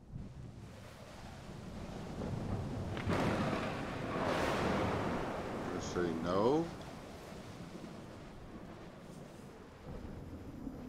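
Stormy video game weather with a broad roar of wind and crashing waves, swelling rumbles of thunder building mid-way, while someone talks over it throughout.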